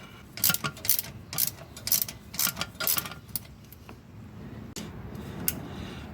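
A 14mm nut on a new Delco starter in a 1999-2006 Chevy Silverado 1500 is tightened with a ratchet, giving bursts of quick metallic clicking in several short runs, close and fairly loud, then a quieter pause.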